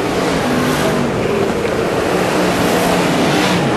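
Modified and superstock race cars lap a track during a North Island shootout championship, a dense, continuous engine roar that stays loud and steady throughout, with no clear individual passes standing out.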